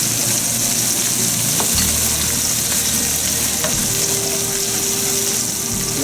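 Duck stir fry sizzling hard in a hot pan as soy sauce and fish sauce go in, a loud steady crackling hiss with brief stirring clatter, no talk.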